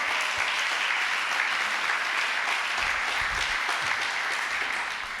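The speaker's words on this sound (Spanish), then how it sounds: "Alguien le da un aplauso al Señor." A church congregation applauds the Lord, a steady, dense wash of clapping that fills the whole stretch at even strength, with a few low thumps underneath.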